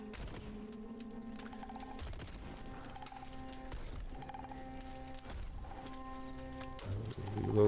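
Gunfire in the video game Caves of Qud, several sharp, spaced blasts heard over a constant game music drone.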